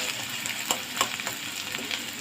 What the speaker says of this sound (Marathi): तेल तापलेलं आहे, त्याच्यामध्ये कांदा घालायचा आहे. कांदा चांगला भाजायचा.